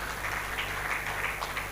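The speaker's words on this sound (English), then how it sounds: "Please can we give them a round of applause" Audience applause welcoming guests at a dialogue event on sustainable energy and agriculture financing, a steady and fairly soft wash of many hands clapping together throughout, with no voices on top.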